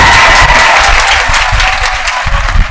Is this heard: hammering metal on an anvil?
no